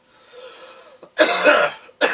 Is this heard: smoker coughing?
yes